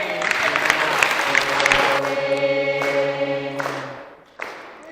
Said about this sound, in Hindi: जोर से ताली बजाइए अपने अपने लिए।